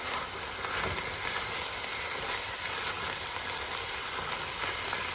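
Ground beef sizzles steadily in a hot frying pan as it is broken up, a close, even crackle and hiss with no pauses.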